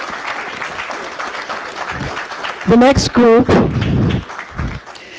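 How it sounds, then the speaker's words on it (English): Crowd applause at an award meeting honoring a group on stage, a steady clatter of clapping joined midway by loud whoops and cheering voices, then thinning out. "Can we give them a round of applause?"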